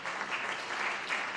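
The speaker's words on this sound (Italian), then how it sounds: "io farei un triplo, quadruplo applauso" An audience at an environmental innovation award ceremony applauds in a brief, soft, steady patter of clapping.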